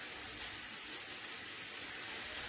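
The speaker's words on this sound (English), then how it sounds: "Bit noisy because I'm using the water on the coffee maker" A coffee maker dispensing hot water in a home kitchen gives a steady, even hiss and rush of water that carries on unbroken and fairly loud, with no voices over it.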